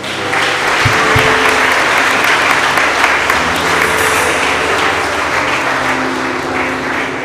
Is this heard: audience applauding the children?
yes